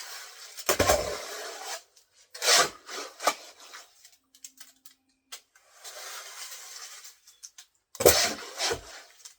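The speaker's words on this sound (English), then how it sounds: "So I dump this in there gently." Wet concrete slides and scrapes in several separate pours into a form for an old marble headstone's base in a cemetery, each pour a rough, gritty rush of a second or so, close by, with quiet gaps between.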